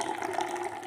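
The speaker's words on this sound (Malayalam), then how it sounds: "ഇനിയിപ്പോൾ നമുക്കൊരു അരിപ്പ വെച്ച് നമുക്കിതിങ്ങനെ ഈ ഒരു കപ്പിനകത്തേക്ക് ആദ്യമേ ഒന്ന്" Freshly made lemon juice streams through a strainer into a cup in a kitchen, a short, close, continuous trickling pour.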